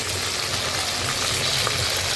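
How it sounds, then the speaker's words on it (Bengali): Beef roast frying in a pan in a home kitchen gives a steady, even sizzling hiss that runs unbroken from start to finish, with no talking over it. "এখানে রোস্ট ভাজা হচ্ছে"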